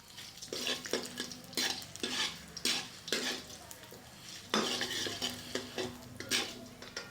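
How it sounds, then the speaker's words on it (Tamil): Chana dal roasting in a pan for a wedding-style mixed vegetable poriyal. A spoon scrapes and stirs it in repeated, regular strokes over a soft, steady sizzle, close up and with no voices. "இந்த சின்ன டீஸ்பூனுக்கு ஒரு 3 டீஸ்பூன் கடலைப்பருப்பு போடுறேன். இப்போ லைட்டாக கடலைப்பருப்பு"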